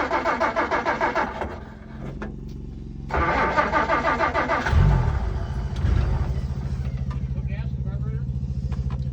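Original 1960 Willys pickup engine cranking with a rapid starter chug, briefly cutting out, then cranking again and catching into a rough, rumbling idle close by, with someone talking over it.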